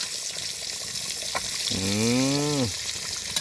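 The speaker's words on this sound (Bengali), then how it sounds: "এপাশে টকের জন্য পিরানা মাছগুলো ভাজা হচ্ছে" Piranha fish frying in a pan for a sour dish, a soft steady sizzle under a brief high tonal whine that rises and bends before fading.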